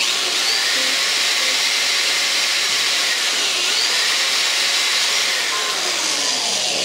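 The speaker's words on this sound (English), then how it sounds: "I'm going to go back in here with a much bigger drill bit, now that I've got a pilot hole" A power drill with a large bit bores out a pilot hole in a plastic PS4 controller, a loud, steady high-pitched whine running unbroken and close-up throughout, with no talking.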